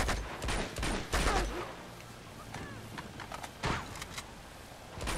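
Sniper gunfire in the video game Uncharted 2: Among Thieves: a few sharp, scattered shots at uneven intervals, with speech in the background.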